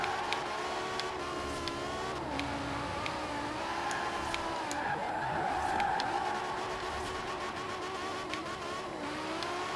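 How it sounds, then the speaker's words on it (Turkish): Tires squeal and skid as a BMW M5 E60 drifts through city streets in the racing game Forza Horizon 4, with a continuous engine whine that wavers under a steady squeal and occasional clicking sounds. "Drift atmak çok zor bu oyunda aslında."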